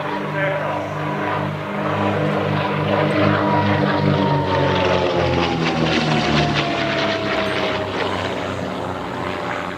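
Propeller aircraft on final approach and landing at the Shuttleworth Heritage air show, engine drone loud and steady throughout with a slowly falling pitch, people faintly talking underneath.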